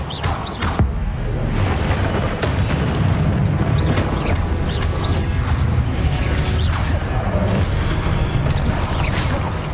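A spell cast in the Hogwarts Legacy video game during a puzzle trial, heard as loud booming magical bursts and whooshes over a dense, continuous game soundscape.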